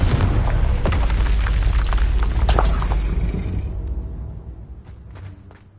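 A Confringo fire spell in the Hogwarts Legacy video game bursts with a loud, deep boom and crackling blast, then the roar fades into a rumbling tail with a few faint sharp pops.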